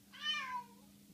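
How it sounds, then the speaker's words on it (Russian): An angry cat lets out one short, strained meow, faint and slightly distant over a low steady hum. "Ты видишь, рассвирепел кот."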